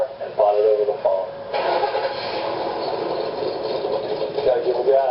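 A 1965 Chevy Impala SS 396 V8 cranks and catches, then settles into a loud, rough rumble as gas is given, with nearby voices over it.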